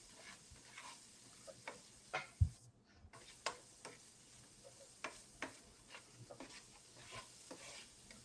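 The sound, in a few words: sautéing stuffing with Cajun blackened seasoning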